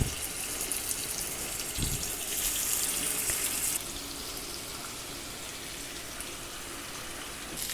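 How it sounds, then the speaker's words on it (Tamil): Tandoori chicken pieces fry on a hot tawa with a continuous loud sizzle and hiss. The sizzle briefly intensifies, then settles into a steady crackle, and there is no talking. "இப்போ மீதம் இருக்க சிக்கனையும் இதே தவாவில் போட்டு பொரித்து எடுத்துக்கலாம்."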